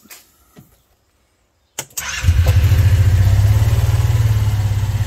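Engine cranked with a jump pack clipped to the battery, a short starter whir then catching and settling into a loud, steady, close idle that runs to the end.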